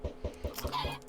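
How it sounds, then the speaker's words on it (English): Chickens in the Minecraft video game cluck in a steady rhythm, about five evenly spaced clucks in just over a second, close and clear with no talking. "Let's see if we can breed up these chickens again."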